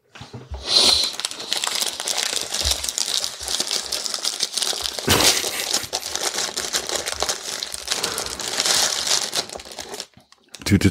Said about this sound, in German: Tüte Chips.